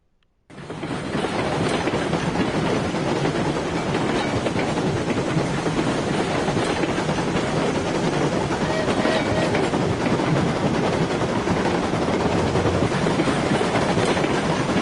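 Coal-powered steam locomotive running in the Railroads Online video game, a continuous loud rumble with rhythmic rail clatter that starts abruptly after a brief silence and holds steady throughout.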